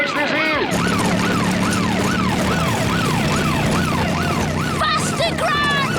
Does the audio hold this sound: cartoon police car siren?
yes